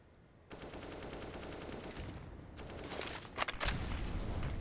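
Rapid automatic gunfire during a Counter-Strike match on the Vertigo map, a dense rattle of shots close and fairly quiet, building toward a sharper burst near the end.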